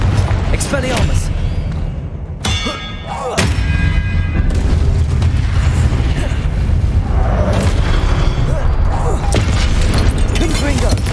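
Blasting spell explosions in Hogwarts Legacy, heavy booming detonations and rumbling impacts layered over a loud, busy combat din, with a brief lull before the blasts resume, while voices call out over the action.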